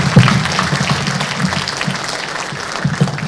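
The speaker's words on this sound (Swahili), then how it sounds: "Hebu tumpigie makofi makubwa yenye nguvu kidogo" Audience applause at a gala dinner in Dar es Salaam, a steady wash of hand claps filling the room at moderate loudness from start to finish with no voices over it.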